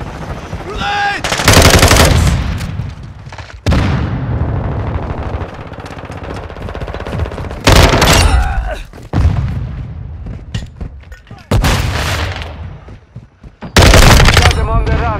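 Call of Duty: Modern Warfare II team deathmatch firefight: loud, close automatic gunfire bursts alternating with booming blasts including a grenade explosion, repeated every few seconds, with voice callouts between.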